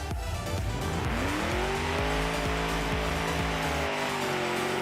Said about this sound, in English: This is far and away one of the loudest cars here.